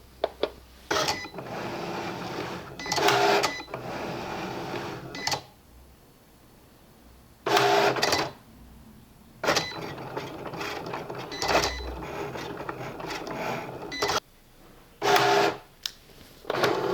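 A Cricut cutting machine runs its scoring tool across medium cardstock with extra pressure. Bursts of motorized whirring and mechanical clatter repeat several times, separated by short quiet pauses, close and without speech.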